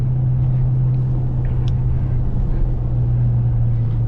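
A 2023 Dodge Charger Hellcat in track mode holds a steady, loud engine drone with a constant low hum. Its pitch holds fairly flat for the whole stretch, with no talking over it.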